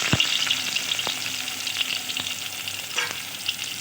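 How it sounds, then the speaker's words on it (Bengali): Chopped onion, added after whole cumin and bay leaf, sizzles steadily in hot oil in a clay pan, with a few sharp scraping stirs cutting through the continuous frying hiss. "পেঁয়াজটাকে খুব ভালোভাবে নেড়ে চেড়ে ভেজে নেব।"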